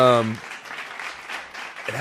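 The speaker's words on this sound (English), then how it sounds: "So definitely have to give a round of applause to Dahlia Dark." Dense crowd applause, a broad steady clatter of many hands clapping, bracketed by brief bits of a voice at the start and end.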